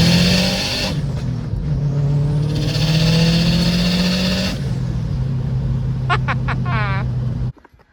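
A Subaru WRX with a Perrin blow-off valve pulls hard in second gear, the engine note climbing loudly before a release, then a quick series of fluttering chirps and an abrupt cut to near silence.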